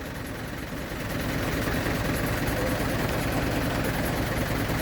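A farm tractor engine running steadily to power a fan, a constant low droning hum with a faint whine above it, loud and unbroken, rising slightly in level after the first second.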